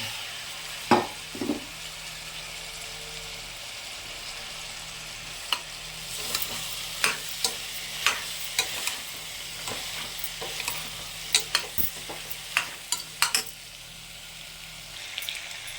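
Cauliflower and potato pieces fry in a pan for a vegetable curry, giving a steady soft sizzle with intermittent scraping stir clicks, growing busier toward the end.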